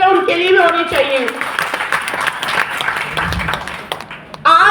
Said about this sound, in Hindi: एक बार जोरदार तालियां उनके लिए भी होनी चाहिए।